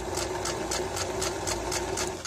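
A sewing machine stitches a curve in fabric, running at a steady pace with a regular rhythmic clatter of needle strokes over a constant motor hum, close and moderately loud with no talking.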